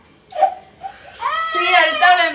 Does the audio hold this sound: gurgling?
no